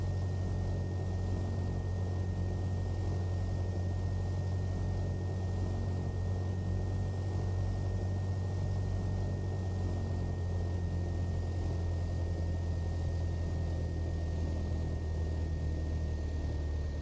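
A Carenado Cessna 172SP in X-Plane 11 on final approach to land on runway 23 at Boca Raton, its steady propeller-engine drone and low rumble holding evenly throughout, alone with no talk.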